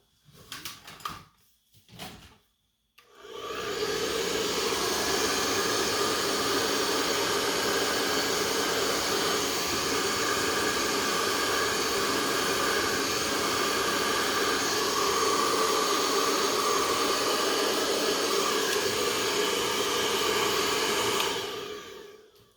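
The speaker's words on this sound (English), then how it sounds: "I'll get my blow dryer one more time." A hair dryer blows in a steady, loud broadband rush for most of the clip, preceded by a few brief clicks and bumps at the start.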